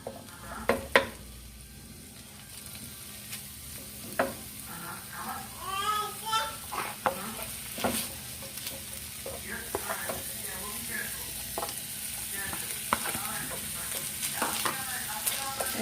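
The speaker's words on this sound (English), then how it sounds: "So I'm going to start by frying the ground beef." Ground beef fries in hot oil in a pan, a continuous bright sizzle with occasional scraping stirs and clatters, while a voice chirps in the background and brief talk is heard.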